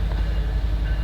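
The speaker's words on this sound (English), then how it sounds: "that's the only problem with having a train nearby at 4:38 in the morning." Train passing nearby at 4:38 in the morning in Davenport, Iowa, a loud, steady low rumble of rolling wheels with a faint tonal whine above.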